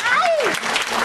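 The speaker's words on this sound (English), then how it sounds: "I need you to clap, scream, shout, make a lot of noise." A horror convention crowd at a Jason Voorhees panel claps and cheers, a loud wash of applause with a whooping voice rising and falling over it, brief and continuous.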